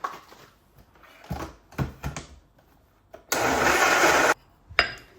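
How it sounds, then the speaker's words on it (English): A blender whirs loudly for about a second amid kitchen clatter, knocks and handling noises before and after. "on the blender"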